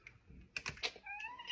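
A cat meowing indoors next to a computer keyboard: soft typing-like taps and then a short, tonal meow, close and faint, with no talking.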